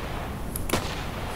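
A single gunshot from a heavy-barrel pistol in a video game, a short, fairly quiet crack that stands alone against a low background hiss.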